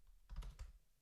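Typing on a computer keyboard set in an awkward spot, a short quiet cluster of a few soft key taps close by in a hushed room.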